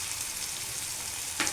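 Curry leaves fry in hot oil while prawn roast is being cooked, a steady close sizzle with a brief sharper crackle near the end.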